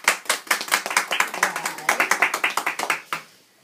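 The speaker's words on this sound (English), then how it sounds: "Let's give her a round of applause" A small group claps for Michelle Lucas, quick close distinct handclaps in an uneven rhythm that stop abruptly near the end.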